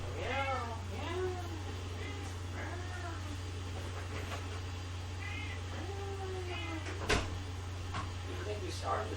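A cat meows repeatedly in a video game, a series of short, clear mews over a steady low background hum, with a sharp clack partway through and people chatting in between.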